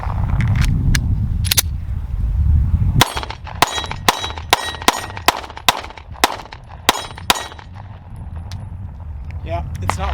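A Sig P365 pistol firing a pocket magazine, sharp close reports in an irregular string of about ten shots after a brief lull, with outdoor background noise underneath.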